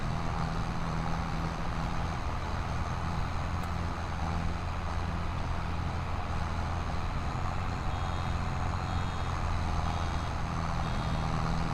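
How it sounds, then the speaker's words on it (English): Reversing beeps from a farm vehicle in the video game Farming Simulator 25, set during hay baling, sound as a steady alarm over a continuous engine drone, filling the whole stretch without talk. "I love hearing that beeping sound."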